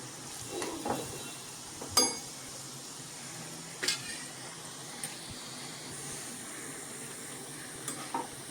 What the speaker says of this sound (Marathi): आपण ज्या 2 सुक्या मिरच्या घेतल्या होत्या त्या पण या फोडणीत घालूया